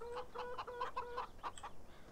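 Chickens in the Farming Simulator 17 video game cluck in a steady series of short repeated calls, moderately near and alone with no speech.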